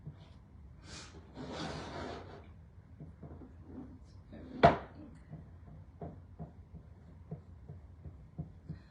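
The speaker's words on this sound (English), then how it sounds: "let's just scrape the excess off" Excess scraped off a reused, slightly stained transfer: a short rough rasping scrape up close, then one sharp knock and a series of quiet taps and clicks in a fairly quiet room.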